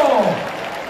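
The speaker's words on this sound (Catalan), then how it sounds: "un aplaudiment pels diables!" Crowd applause for the diables, the fire-running devil troupe with their percussion, at a live Festa Major opening proclamation; dense clapping starts loud and steady, then thins and fades over a second, with a voice briefly over it at the start.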